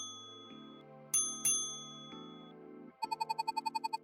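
A notification bell effect chimes in bright, ringing dings, a few separate strikes followed by a rapid burst of about a dozen quick rings at the end, crisp and close with no voices.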